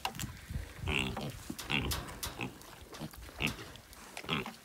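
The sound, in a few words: pigs grunting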